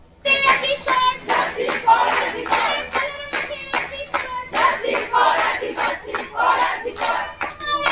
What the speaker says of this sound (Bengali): রাজপথ জুড়ে মিছিলে উই ওয়ান্ট জাস্টিস স্লোগান ওঠে